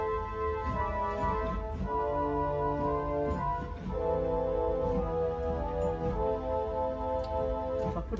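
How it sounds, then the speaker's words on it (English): Willis pipe organ in St John the Evangelist church sounding its viol celeste and echo viol string stops together, a thick, shimmering sustained chordal passage with slowly moving harmonies, steady and unaccompanied. "We have a viol celeste and an echo viol."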